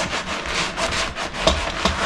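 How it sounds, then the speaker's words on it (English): Someone scrubs a craft room table, giving a steady, close rubbing and scraping sound that carries on without pause for about two seconds. "Let's just scrub this."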